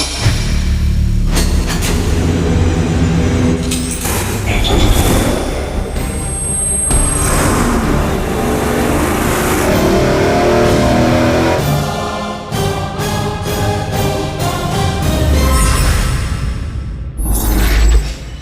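A ProCharger-supercharged 350 Chevy V8 with stock cast pistons roars loudly and continuously on a dyno, with revving surges, bursts of high-pitched whine and sharp bangs breaking through the dense engine noise.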